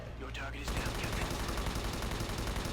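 Rapid automatic gunfire in the video game Ghost Recon Advanced Warfighter 2, a dense, loud stream of shots starting abruptly after a short pause and continuing unbroken.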